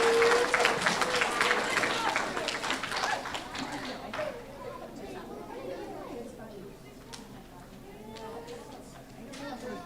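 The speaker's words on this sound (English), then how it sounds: "Give them a round of applause." Clapping erupts from the crowd at a third grade awards ceremony. It starts dense and loud, then thins out over a few seconds into murmuring chatter.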